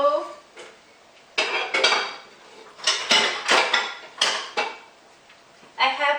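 A bowl is taken out in a home kitchen, with loud, close clattering of dishes and cutlery in uneven bursts while someone talks.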